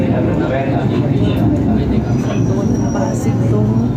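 An LRT Line 2 light rail train arriving at Katipunan Station in Manila rumbles steadily on its rails, loud and close from inside, with a low continuous roar and a faint high whine.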